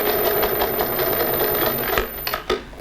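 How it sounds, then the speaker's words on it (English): A sewing machine stitches elastic into a fabric face mask, its rapid mechanical chatter close and steady, with a few sharper clicks near the end. "continue sewing"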